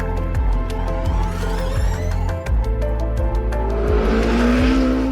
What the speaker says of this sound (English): It's not a naturally aspirated engine, it's a turbocharged engine, it's a twin turbocharged concept.